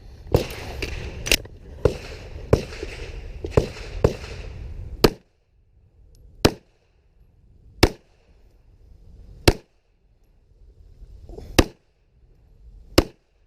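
Pistol gunshots at an IDPA shooting match at an outdoor wildlife club range: a rapid string of six sharp cracks, then five single shots spaced a second or two apart, each loud and close with a short ringing tail.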